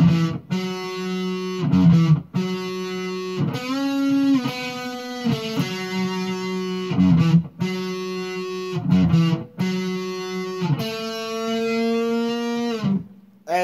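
A distorted electric guitar plays the intro to a song, with sustained bent notes and slow, held phrases separated by brief pauses, loud and clear with no talking.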